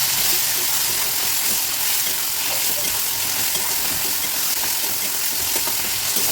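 Turmeric and spices frying and being stirred in a pan for an Assamese fish curry with kohlrabi, a steady close sizzle with faint scraping of the stirring running throughout.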